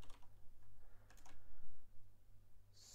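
Quick, light clatter of typing on a computer keyboard, a few short clusters of keystrokes over a steady low hum, fairly faint.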